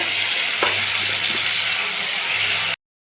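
Garlic paste and spices hit hot oil in a frying pan with a loud, close, continuous sizzle and hiss, with a brief scrape of a utensil early on before it cuts off abruptly.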